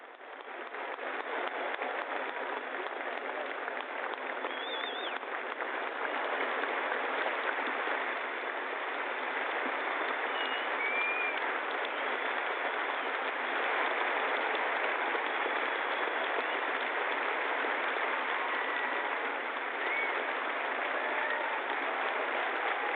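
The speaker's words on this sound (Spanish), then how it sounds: "El aplauso se prolonga" Prolonged, dense applause from a large stadium crowd at an open-air Mass in Edmonton's Commonwealth Stadium, a continuous even roar of clapping that holds steady for the whole stretch with no voices over it.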